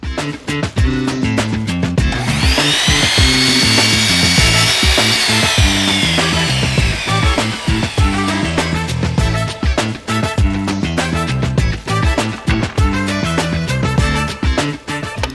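A Bosch GCM 254 miter saw cuts through wood at a 45-degree bevel, a loud continuous whining blade screech with grinding and rubbing through the cut, steady and close throughout with no talking.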